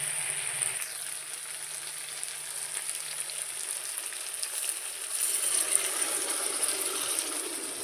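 Meat and potatoes sizzling loudly in a pan after water is poured in, a dense continuous hiss and crackle with a faint low bubbling, steady for several seconds with no talk.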